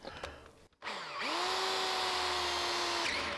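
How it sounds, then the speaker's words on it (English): An electric drill drilling a small hole in a homemade parts-cleaning tank whirs up to a steady, loud high-pitched whine and holds it for about two seconds before winding down, with a brief clatter before it starts. "We're going to drill a small hole, so this way we can put our air fitting through it."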